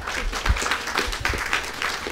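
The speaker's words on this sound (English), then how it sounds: "All right, give her a round of applause." Audience clapping at a 2012 campus groundbreaking ceremony, a dense, steady patter of many hands that lasts throughout.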